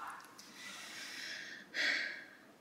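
Heavy, breathy panting from a woman bending over to deal with her shoes, faint and close, with a sharper exhale near the end.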